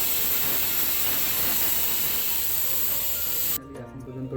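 Eggplant slices seasoned with salt and turmeric sizzle loudly in hot oil, a dense steady hiss running almost unbroken before dropping away abruptly near the end.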